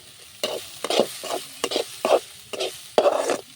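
Amaranth leaf stir-fry being stirred in a pan, about eight distinct scraping strokes at an uneven rhythm over a soft sizzle, close and fairly loud with no voices.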